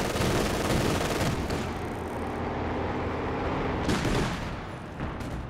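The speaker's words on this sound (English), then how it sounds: "He's also got an ISG, but it's currently getting bombed out by the mortar pit." Mortar pit shelling in the real-time strategy game Company of Heroes 2: dense, continuous battlefield rumble of explosions and gunfire, with sharper bursts near the start and again around the fourth and fifth seconds.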